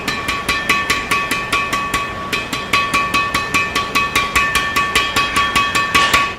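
The frame of a Hiqua Gold Lightning badminton racket is tapped in a fast, even series of about two dozen crisp, ringing knocks, close and clear with no talking.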